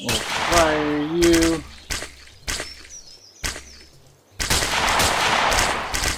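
Rapid gunfire in the video game Colony Survival: sharp broadband bursts punctuate a few seconds, with a short tonal game sound early on, ending in a sustained dense noisy stretch.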